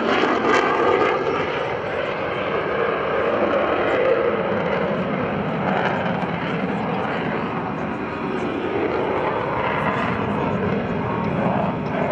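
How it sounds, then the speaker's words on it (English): An F-16CJ Fighting Falcon jet performs a four-point roll at an airshow, its engine a loud, sustained roar across the whole span, with a faint announcer voice beneath. "from your left, the F-16 Fighting Falcon and a 4-point roll"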